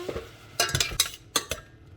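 Mushrooms with cream are sautéed in a pan. A utensil knocks and scrapes against the pan in a few sharp, close clinks and taps, with a faint sizzle underneath.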